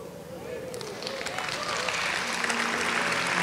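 An evangelical church congregation breaks into steady applause that swells over a few seconds into a dense wash, with a voice talking over the clapping.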